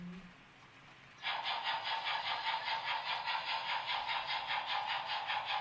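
A Märklin HO model locomotive's chuffing sound effect starts abruptly after a quiet moment, then keeps a steady rhythmic chugging pulse at moderate volume.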